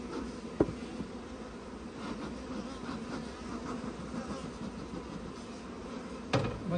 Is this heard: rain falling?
no